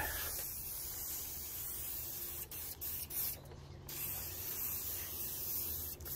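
An aerosol spray can applies base coat paint to a car body as a close, continuous hiss of fine spray, with a couple of brief pauses midway.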